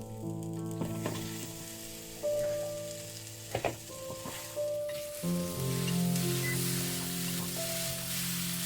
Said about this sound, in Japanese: これだけでちょっと焦げ目つけるね。